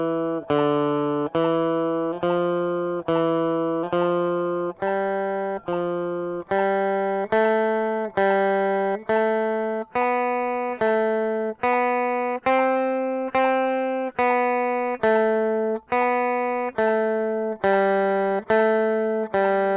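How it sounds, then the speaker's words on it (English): An electric guitar plays a Rockschool grade 1 scale pattern at 70 bpm, single clear notes picked evenly one per beat, rising and then falling, played alone. "I'll just play that pattern through for you at 70 beats a minute like you would play in the exam"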